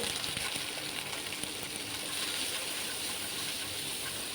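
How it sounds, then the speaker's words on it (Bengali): Capsicum frying in hot oil in a pan, a steady, faint sizzling hiss with soft crackles running throughout. "তো তেলটা গরম হয়ে গেছে এরপরে আমি এর মধ্যে ক্যাপসিকামগুলোকে দিয়ে দিচ্ছি ভাজতে"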